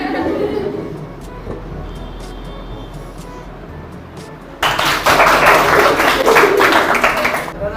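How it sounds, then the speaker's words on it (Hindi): Children clapping together in a Class 9 science classroom during a live physics experiment; the applause bursts in loud and sustained midway through, after a stretch of quieter background noise. "तालियां हो जाए बच्चों"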